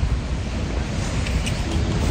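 Jeongbang Falls, a waterfall on Jeju Island, gives a loud, steady roar of rushing water, continuous and broadband, with wind noise and no voices.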